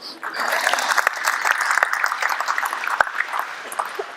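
An audience at a basketball coaching talk claps in a brief, dense burst of applause that starts abruptly and fades slightly over a few seconds.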